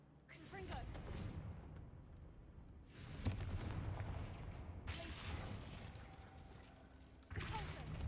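In Hogwarts Legacy, the Confringo fire spell lets loose a run of crackling, booming bursts, several loud blasts separated by short lulls, each leaving a dense rumbling wash.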